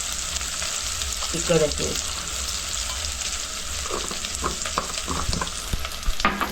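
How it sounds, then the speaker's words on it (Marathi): Malvani masala sizzles and fries in a hot pan while being stirred, a steady crackle with occasional scraping, as someone speaks briefly over the cooking. "आता हे घालते मालवणी मसाला 1 चमचा घालते"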